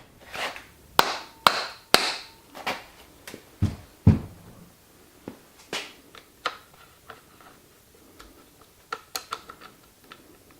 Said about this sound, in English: use a rubber mallet to tap the two bolts, and this will loosen the air shaft from the bottom of the lowers